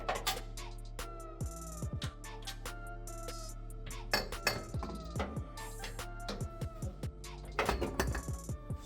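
Metal clinks and taps ring out as bolts are removed from the rear three-link suspension of a first-generation Toyota Sequoia, with scattered sharp knocks and rattles over a low steady background hum, close and moderately quiet.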